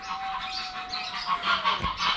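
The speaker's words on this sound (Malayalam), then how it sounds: "പക്ഷികളുണ്ട്," Small birds chirp and tweet in bursts around a mountain farm stay, fairly close, over a steady outdoor ambience with no talking.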